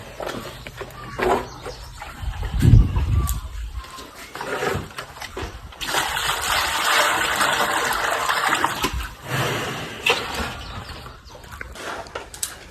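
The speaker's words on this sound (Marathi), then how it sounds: "आज आपण टाकीतनं पाणी आणून गुरांना पाजतोय" Water splashes and trickles as it is poured from a tank for cattle to drink during a power outage on a farm, a steady close wash of noise with a heavier gush near the start.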